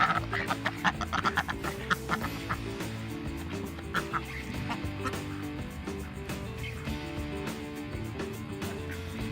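A flock of meat-bird ducks quacks and honks busily at close range while being offered corn, dense overlapping calls that are loudest at the start and continue throughout.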